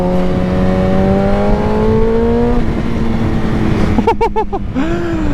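A motorcycle engine droning loudly with rising pitch as it accelerates, then a few sharp throttle revs near the end.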